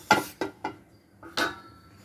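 Pumpkin peel stirred with a little oil in a pot gives a few sharp clinks and scrapes of a spoon against the metal, four or five separate knocks spaced irregularly, close and quiet with no talk.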